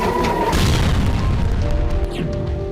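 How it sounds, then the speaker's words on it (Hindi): Deep explosion blasts in Tel Aviv after an Iron Dome interception failure, a loud rumbling boom that swells early and rolls on as a sustained low roar. "आयरन डोम की नाकामी से कई जगहों पर धमाके हुए"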